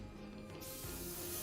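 Airbrush spraying paint onto a miniature figure, a steady close hiss that grows louder and fuller partway through and continues alone.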